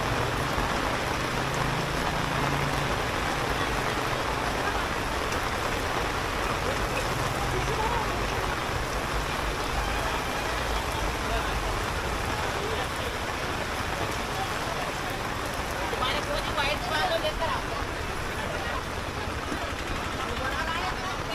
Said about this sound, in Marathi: पाऊस बघा काय पडतोय